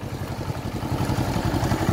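A tractor pulling a disc harrow across a field being worked for pasture gives a loud, close engine throb with a fast, regular pulse and some mechanical clatter, with no voices.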